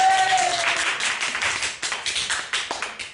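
Brief burst of clapping from women in the audience at a live comedy mind-reading show, a scattered patter of hand claps that thins out toward the end.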